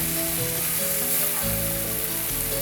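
Courgette and shrimp fry in a pan, filling the space with a loud, continuous close sizzle and steady crackle, with no talking.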